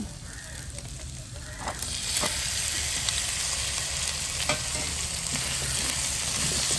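Jackfruit seeds sautéing in a pan with curry leaves, ginger and garlic: a steady, loud sizzling hiss that swells after the first couple of seconds, broken by occasional clicks from stirring, with no talking.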